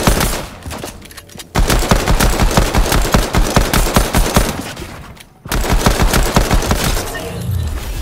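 Rapid bursts of pistol gunfire in a video game, loud sharp shots in quick succession with a brief pause near the middle, then more firing.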